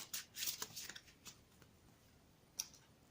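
Tarot cards are shuffled by hand in quick, soft, papery bursts, a few flicks in a row then a pause and one last snap, faint and close in a quiet room.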